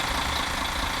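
A coach bus engine idles in Fernbus Simulator, a steady, close, even rumble with no other sounds.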